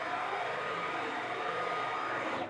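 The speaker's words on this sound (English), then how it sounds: "I'm going to jog the machine all the way to the front" A CNC machine jogging toward the front of its table gives off a steady, fairly quiet motor whir that holds even throughout, then cuts off at the end.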